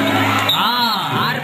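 Crowd at a college Pongal festival sports contest erupts in whoops and shouting, a steady dense roar of many voices at close range lasting the whole moment.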